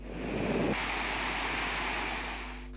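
Water rushing through the opened spill gates of a reservoir after heavy rain, a steady broadband roar that swells briefly near the start and holds constant, without voices.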